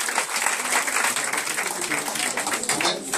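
A church congregation claps and cheers for Jesus during a Sunday service, a dense, loud, continuous wash of applause that holds steady throughout and has a voice mixed in.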